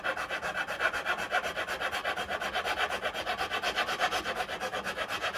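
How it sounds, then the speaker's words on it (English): A 4-in-1 rasp filing a hickory golf club shaft, its least abrasive side scraping in fast, even back-and-forth strokes, a steady rhythmic rasping close by with no talk. "So I'm using the 4-in-1 rasp here, and I'll start with the least abrasive"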